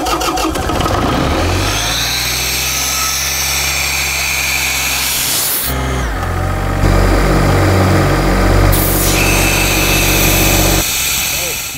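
A diesel-powered air compressor engine cranks and catches, settling into a loud, steady rumble that shifts in pitch partway through and continues running close by.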